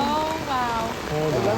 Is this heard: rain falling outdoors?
yes